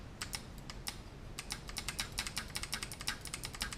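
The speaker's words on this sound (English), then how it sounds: "Nice positive clicks." Fanatec Forza steering wheel rim paddle shifters click in quick, crisp bursts, sparse at first and then a rapid run of sharp taps close to the microphone.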